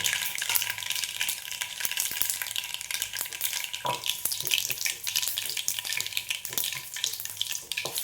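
Onion sizzles steadily in hot oil in a pan with a small piece of cinnamon and a bay leaf, the start of a vegetable stew. A bright, continuous crackle runs throughout, broken by scattered scrapes and clicks of stirring.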